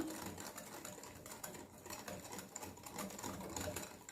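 Chocolate brownie batter with sugar whisked in a bowl, a steady, fast, rhythmic whirring and scraping that runs continuously at close range without talk.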